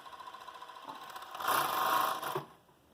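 A Brazilian sewing machine stitching and trimming fabric at the same time, running steadily and faintly, then rising to a louder whirring burst of about a second before stopping, with no talking.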